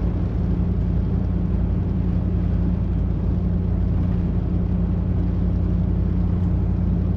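Steady low rumble of an LS1-powered Grand Wagoneer truck cruising at 75 miles per hour on the interstate, a continuous, even drone of engine and road noise with no talking.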